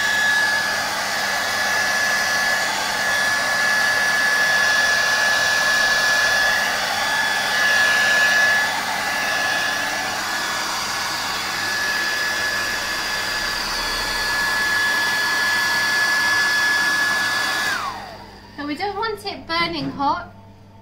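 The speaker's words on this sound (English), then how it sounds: "I'm going to use my trusty hairdryer. So it is going to get a little bit noisy" A hairdryer blows hot air onto a stainless steel sheet to warm it for melting chocolate, a loud steady whine that runs continuously before cutting off near the end.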